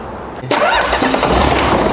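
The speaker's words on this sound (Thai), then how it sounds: "เดี๋ยวมาสตาร์ทให้ชมกันครับ" A Hino HO7D 195-horsepower diesel engine starts up: a short starter crank, then the engine catches abruptly and settles into a loud, close, rumbling idle.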